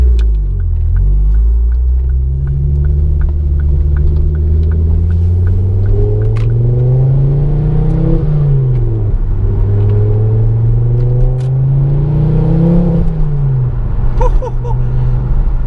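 A Ford Focus RS Mk2 engine revs while being driven, a loud, steady rumble that climbs and falls in pitch several times as the throttle opens and eases, with no talking.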